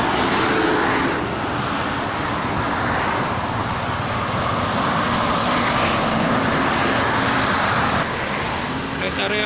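Steady road traffic at the KM57 rest area on the Jakarta–Cikampek toll road, a continuous broadband roar of passing cars and vehicles holding at an even loudness throughout with no breaks.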